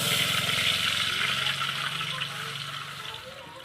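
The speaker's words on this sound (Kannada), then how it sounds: "ಇವಾಗ ಎಣ್ಣೆ ಕುದಿಯಾಗತ್ತದಲ್ಲ ರೀ ಇದಕ್ಕೆ ಇವಾಗ ನಾನು ನೀರು ಹಾಕೋತೀನಿ" Water poured into hot ghee in a pan, producing a loud, continuous rushing hiss and bubbling that slowly fades over a few seconds, close by with no clear speech.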